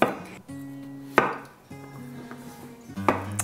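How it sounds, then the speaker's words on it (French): A knife cuts small Québec grelot potatoes into segments on a board, giving three sharp chopping knocks spread across the clip, with softer scraping and a low hum between them. "je vais les couper en segments comme ça"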